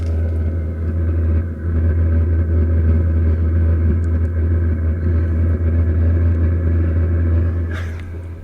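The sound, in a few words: camper van diesel heater running, slightly whistling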